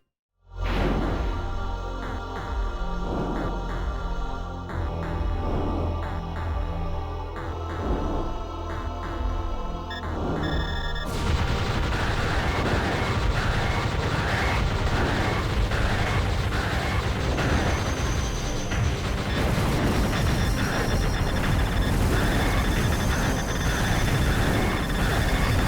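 Gunfire and explosions from the on-rail shooter Panzer Dragoon Zwei, a dense, continuous barrage of blasts and bursts layered over loud game music for the full stretch, with no talking.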